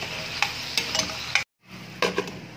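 Chicken adobo with bay leaves is stirred in a pan, giving close, repeated scraping strokes over a light sizzle, with a brief silent gap in the middle and no talking.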